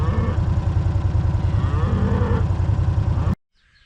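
Cows low loudly and continuously inside a barn in the morning, several overlapping moos stacking up without a break before cutting off abruptly into near silence.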